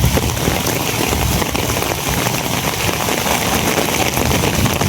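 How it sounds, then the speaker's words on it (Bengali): Heavy rain pouring down, a dense, loud, unbroken hiss of drops pattering on surfaces nearby. "কি পরিমাণ বৃষ্টি হইতেছে"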